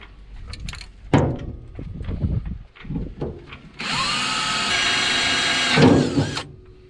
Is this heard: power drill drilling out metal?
yes